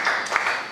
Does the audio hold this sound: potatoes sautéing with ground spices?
no